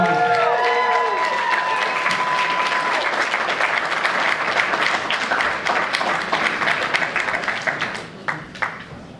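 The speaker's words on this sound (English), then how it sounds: "How about another round of applause?" Loud crowd applause and cheering at a combat sports event after a co-main bout, dense clapping filling the arena, with an announcer's voice and a brief tone at the start, tapering into scattered claps near the end.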